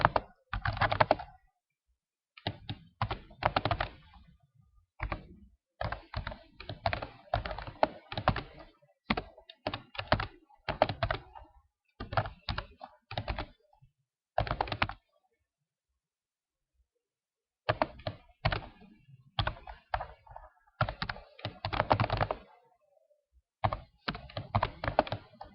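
Typing on a computer keyboard, with bursts of quick, close keystrokes separated by short pauses and one longer silent gap midway.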